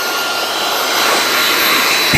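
A Fanttik Slim V10 Mix cordless vacuum runs on its high setting, giving a loud, steady, close-up whooshing roar that swells slightly toward the end.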